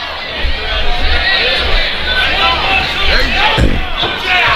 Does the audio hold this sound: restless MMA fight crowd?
yes